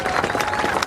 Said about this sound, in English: Let's give a round of applause for all the support to make this happen.